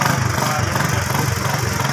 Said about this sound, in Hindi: अच्छा बिला जी वेखो मोटरसाइकिल सही करवा लिया चोई साहब ने।